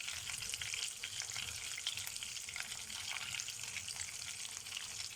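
Tuna pieces fry in butter in a pan, giving a steady, close, crackling sizzle throughout with no one speaking.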